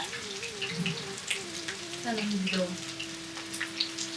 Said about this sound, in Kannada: ಹಲಸಿನಕಾಯಿ ಕಬಾಬ್ ಹೌದು, ಅದು ಆಗ್ತಿದೆ ಎಣ್ಣೆಲಿ ಒಂದೊಂದಾಗಿ ಬಿಡ್ತಾ ಇದ್ರು